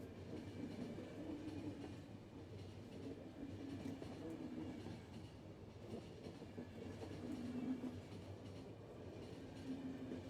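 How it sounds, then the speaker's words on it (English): A train in The Final Station video game rolls steadily along the track, a continuous rumbling chug with rhythmic clatter that holds at an even, moderately loud level throughout, with no voices. "this is the first time we've ever driven a train."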